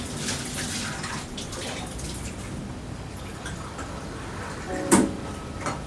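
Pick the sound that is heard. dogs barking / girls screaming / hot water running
hot water running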